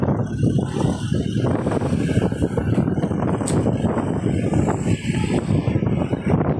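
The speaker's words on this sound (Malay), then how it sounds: "Angin semakin kuat." Strong wind buffets the microphone in a steady, roaring rush with gusts throughout, heard outdoors during a Tua Pek Kong procession in Siburan, with no talking.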